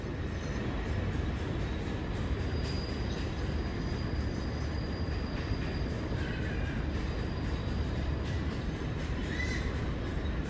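An R188 7 subway train approaches the Court Square platform on the Flushing Line, a steady loud rumble of wheels and rail noise filling the station throughout with faint high squeals.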